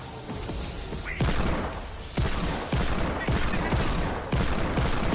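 Gunfire rattles through a video game shootout in repeated loud bursts of rapid shots, with sharp impacts spaced every second or so and a steady din between them.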